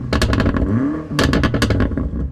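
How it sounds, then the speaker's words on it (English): A BMW M5 engine revs hard in two bursts separated by a brief dip, a loud close roar with rising pitch and clattering mechanical edges, heard from outside the car in a drag race setting. "Let's have a listen to the BMW."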